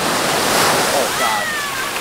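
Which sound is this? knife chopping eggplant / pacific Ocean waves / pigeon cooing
pacific Ocean waves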